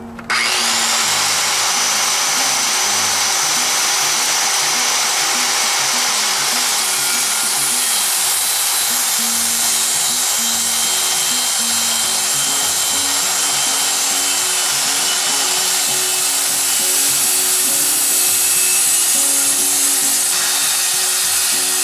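Power saw cutting through clamped wood for wall hanging shelves, a loud continuous whine and rasp held steady for the whole stretch, close up with no talking.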